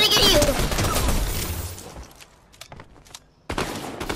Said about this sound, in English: Isaac, shoot! He's trying to get you.